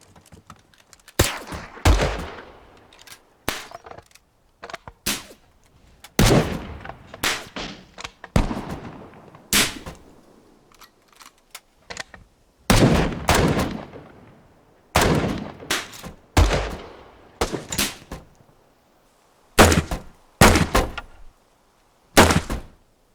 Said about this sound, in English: Ready on the firing line. Commence firing.